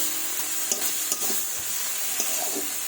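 Katla fish sautéing in spice masala with turmeric in a pan, a steady close sizzle with occasional scraping stirs and light clinks, no voices.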